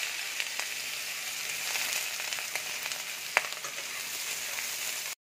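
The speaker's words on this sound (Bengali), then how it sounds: "এবার আমি পেঁয়াজটা দিয়ে দিচ্ছি।" Chopped onion hits hot oil already crackling with black cumin seeds for a rui posto fish dish, giving an even, close sizzle with a few small pops that stops abruptly at the end.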